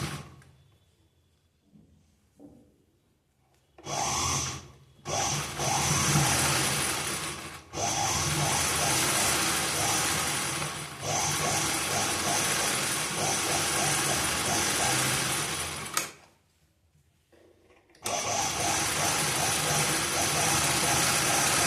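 A sewing machine stitches a blouse in rapid mechanical bursts, its clattering needle running in long continuous stretches separated by short pauses, close and fairly loud with no talking.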